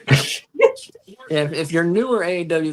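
A sharp, single sneeze bursts out at the very start, close and loud, followed by a short breathy sound and then a person talking.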